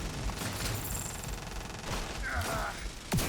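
Gunfire from a looter shooter video game, a dense continuous rattle of shots and impacts filling the whole stretch with a sharp burst near the end, with no talk over it.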